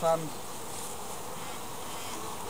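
Honey bees buzzing around an open hive during an inspection: a steady, dense hum of many wings, close and continuous, with a brief higher tone at the very start.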